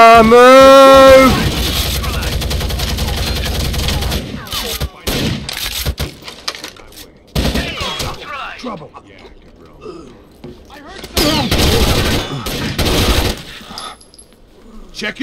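Gunfire in Rainbow Six Vegas 2 Terrorist Hunt comes in irregular rapid bursts separated by short pauses, close and loud, mixed with mechanical clatter and shouting voices.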